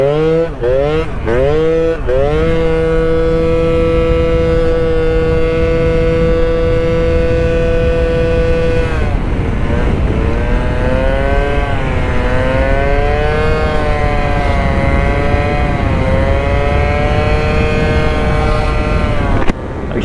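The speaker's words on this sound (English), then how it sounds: "I actually forgot how much fun this bike is to ride." A Honda Elite scooter fitted with a smart carburetor is ridden close up, the engine revving up in quick bursts, holding a steady drone, then rising and falling in pitch while the rider speaks.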